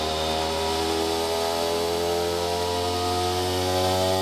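Turbocharged rotary-engined Corvette running on a dyno in 4th gear at a steady 3,000 RPM: a loud, constant droning hum with strong even harmonics, unbroken and close.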